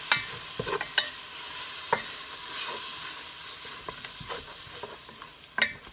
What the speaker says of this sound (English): And then I'm just going to saute this.